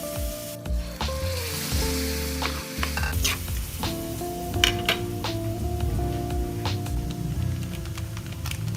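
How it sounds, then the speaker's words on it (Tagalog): Garlic and onion sautéing with ground pork for pancit palabok, a loud, close sizzle with frequent metallic scrapes and clinks of a utensil stirring in the pan. "Tapos ay igisa na ang garlic at onion."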